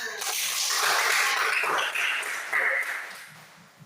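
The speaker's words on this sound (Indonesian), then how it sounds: "tepuk tangan" Classroom of students clapping hands together, a dense burst of claps lasting a few seconds and fading at the end, with children's voices mixed in.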